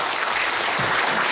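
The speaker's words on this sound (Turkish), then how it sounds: "Mustafa Hocam için de ben çok büyük bir alkış rica ediyorum" Applause from an audience honouring coach Mustafa at a municipal taekwondo sports club event in İspir, a steady, dense clapping wash that fills the short moment at even loudness.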